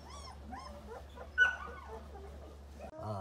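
Several twenty-day-old puppies from a litter of seven whimper and yip in short, high, wavering cries, one louder squeal standing out midway, over a steady low hum.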